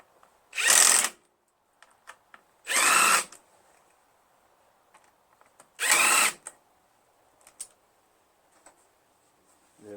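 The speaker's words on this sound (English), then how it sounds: "Super tiny torque fit on my 1/4 inch impact." A 1/4 inch impact driver fitted with a tiny Torx bit, working on a Craftsman LT1000 lawn tractor, fires three loud, close bursts of about half a second each, separated by quiet pauses and small clicks.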